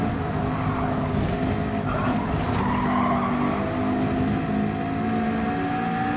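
Race car at Spa in Gran Turismo 7 braking hard, with engine drone and a burst of tyre squeal and skidding, then the engine pitch climbing again, loud and steady without voices.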